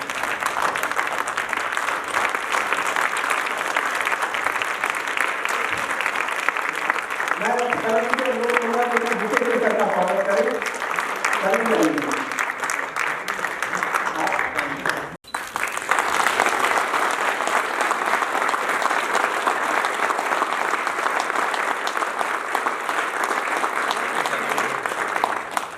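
A standing audience at a company meeting gives sustained, loud applause to welcome the senior branch manager; the clapping fills the whole stretch, and a voice briefly speaks over it partway through.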